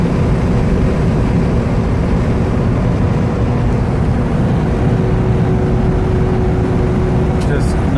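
A 1979 Ford Bronco on bigger tires cruises at about 60 mph, heard from inside as a steady, loud, unbroken roar of engine, road and wind noise throughout.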